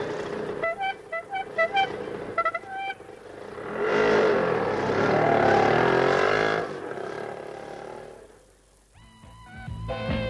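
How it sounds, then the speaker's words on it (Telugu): Auto rickshaw driving slowly during a Telugu stage play, its engine swelling into a loud rumble in the middle, with horn-like tonal beeps before and after. "బాబు, ఆటో మెల్లగా వెళ్ళను నాయనా"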